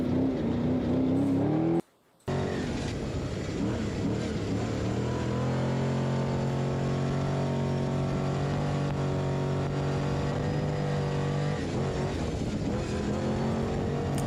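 A race truck in the Baja Nevada off-road race passes with a loud, sustained engine roar that climbs and holds in pitch before fading, after a brief dropout.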